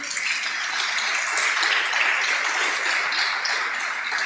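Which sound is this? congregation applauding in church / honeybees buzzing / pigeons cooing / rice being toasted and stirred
congregation applauding in church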